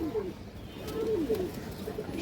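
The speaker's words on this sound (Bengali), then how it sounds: "বিগ সাইজের একটা নর কবুতর" A big male pigeon gives soft, throaty coos, a couple of rolling calls that rise and fall over a quiet background hum.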